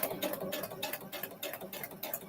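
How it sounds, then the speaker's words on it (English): Sewing machine slowly stitching through foundation paper piecing, a steady pattering run of needle strokes, moderately quiet and close, with no talking. "Slow stitching."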